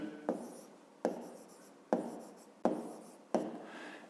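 Pen writing on paper while working a fifth-grade math exercise: five distinct scratchy strokes, each a sharp onset fading away, spaced about a second apart, close and quiet with no voice.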